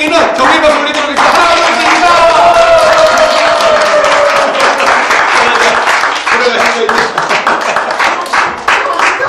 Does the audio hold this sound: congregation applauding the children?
yes